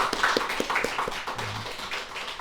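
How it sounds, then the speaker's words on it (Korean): Hands clapping among a church congregation during a Sunday service, a loose scattering of distinct claps with uneven rhythm, close and moderately loud, with no talk over them. "박수 한번 쳐드립시다."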